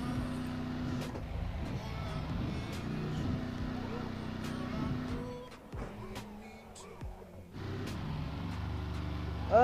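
A bus in the racing game Assetto Corsa takes a corner, its engine droning steadily, then easing off and picking back up, while someone talks over it.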